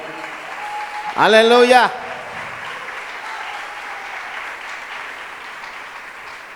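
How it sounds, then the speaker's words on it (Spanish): A church congregation applauds in a steady, dense wash that carries on to the end, while a voice calls out loudly near the start. "dale un aplauso al Señor"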